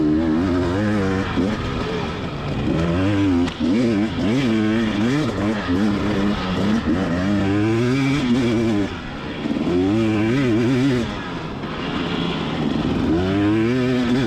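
Dirt bike on an IXCR cross-country race lap, engine revving hard and continuously as it charges and accelerates through the trail, loud and close with repeated rising pitch sweeps through gear changes.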